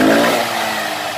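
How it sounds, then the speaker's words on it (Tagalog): A car engine idles evenly after a valve adjustment, its exhaust giving a steady, close, loud drone with no misfire, heard alone for about a second. "Maganda na yung bunga ng tambutso."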